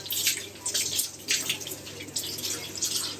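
Water runs steadily from a tap at a beachside spot in southwest India while a face is washed, a close splashing hiss with small surges and drips, no talking over it.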